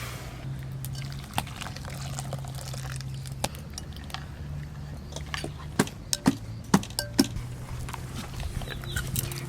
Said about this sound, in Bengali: জল গরম হয়ে গেছে, এবার সুজিতে ঢেলে দেবো।